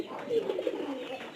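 Rain-soaked pigeon, moulting and unable to fly, gives a short, soft, throaty coo, heard close and alone over faint background.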